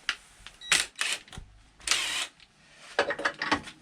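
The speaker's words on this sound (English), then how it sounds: "we've got to take this nut off" A wrench or ratchet undoes a nut on the engine casing of a Royal Alloy GP125 scooter, making a few short, close clicking and scraping bursts separated by brief pauses.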